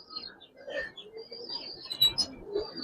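Giribaz and racer pigeons cooing, soft low throaty calls and faint chirps that are close but quiet, with a little background noise.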